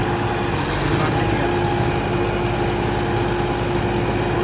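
A Ford tractor engine runs steadily at a constant rumble, close and continuous, while towing a stuck John Deere tractor out of a farm field.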